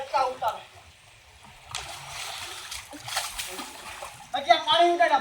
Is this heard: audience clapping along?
no